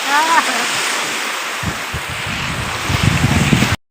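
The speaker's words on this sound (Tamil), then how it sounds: "அலை சத்தம் காலை கிழிக்குது கேஸ்." Sea waves at Panaikulam beach near Ramanathapuram, a loud continuous wash of surf mixed with heavy wind noise on the microphone, with a voice briefly heard at the start.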